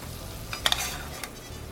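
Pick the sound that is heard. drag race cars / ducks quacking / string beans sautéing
string beans sautéing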